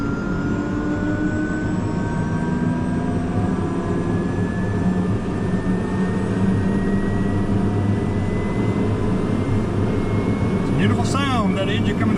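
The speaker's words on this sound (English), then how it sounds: "Beautiful sound, that engine coming to life." A light aircraft's engine runs steadily and loudly before a single-pilot flight, a continuous drone with a rising tonal whine and a brief warbling sweep near the end.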